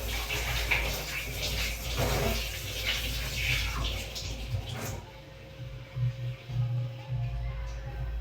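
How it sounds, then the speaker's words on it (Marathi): Running water splashes steadily as hands are washed, then the flow cuts off about halfway through, leaving a few soft, close handling sounds. "मी हात धुवून घेतले आता स्वच्छ."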